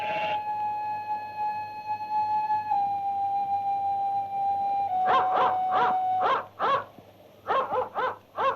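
A dog gives a long, sustained howl that wavers in pitch, then breaks into a run of sharp, repeated barks in quick clusters, fairly close and loud over a quiet background in a 1946 film scene.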